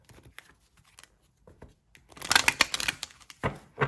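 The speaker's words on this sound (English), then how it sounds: "Shuffle this one more time." Tarot cards being shuffled by hand, with soft scattered riffles early on, then a louder burst of rapid crisp card flutters followed by another short run near the end.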